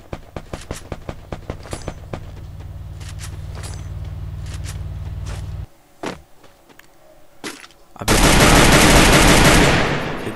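Gunfire in the shooter game Free Fire: a rapid string of sharp shots over a steady low hum, a pause with a few isolated cracks, then a loud sustained burst of noisy blasting at the end.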